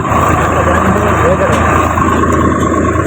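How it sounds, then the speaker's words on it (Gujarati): A tractor engine runs steadily close by, a loud continuous rumble with a constant low hum and no pauses. "હવે ટ્રેક્ટર કરી દીધું ચાલુ"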